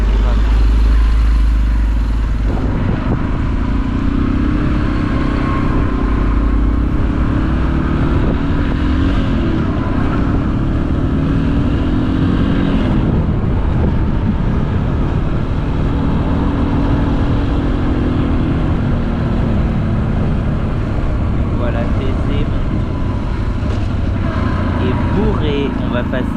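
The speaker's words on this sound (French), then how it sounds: "C'est la plus vieille voiture qu'on voit encore rouler couramment." An old car, among the oldest still commonly seen on the road, drives past with a continuous rumbling engine that stays loud and steady throughout, with street noise around it.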